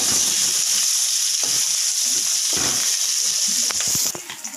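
Prawns fry in hot oil in a wok with a loud, continuous sizzle and bright hiss, broken by occasional stirring clatters, then easing slightly near the end.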